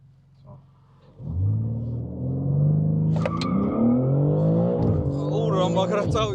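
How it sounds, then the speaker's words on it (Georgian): A BMW M3 CS G80 accelerates hard from inside the cabin, the engine note climbing through a rising rev sweep with a gear change and continuing to build, loud and close, with passengers talking over it. "მოდი ახლა ავჩქარდეთ და ვნახოთ."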